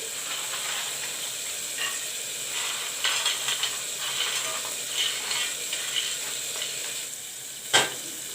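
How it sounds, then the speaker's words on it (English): Soybeans frying in hot oil in a pan, after browned onions and ginger garlic paste for a soybean, chana dal and potato curry, give a steady close sizzle and hiss throughout, with a few stirring scrapes and one sharp clatter near the end. "Now I'm going to fry the soyabean in the oil."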